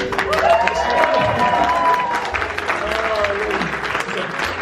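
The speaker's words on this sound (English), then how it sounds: "any minute now they will scream and shout and cheer just for you" A theatre audience at the Theatre Royal pantomime launch in Nottingham cheers and applauds loudly for the puppet Sooty, with a dense, sustained wash of clapping and voices filling the whole stretch alongside music.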